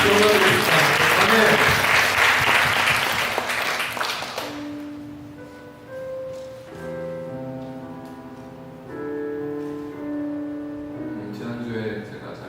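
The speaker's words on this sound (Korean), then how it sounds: "우리 하나님께 정말 큰 박수를 영광의 박수로 영광드립니다" A church congregation applauds loudly in a dense burst during a Sunday morning worship service, then fades out over about four seconds as sustained organ or keyboard notes take over.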